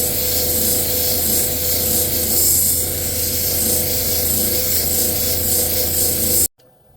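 A beach rock being ground on a 3000 grit polishing wheel, a loud, continuous close rubbing hum with a steady rasp that cuts off abruptly at the end.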